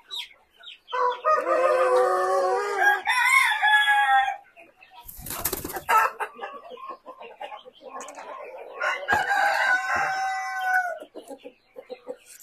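A speckled rooster crows loudly and repeatedly among clucking chickens in a barn pen, with short bursts of crowing separated by a brief noisy rustle and a few scattered clucks.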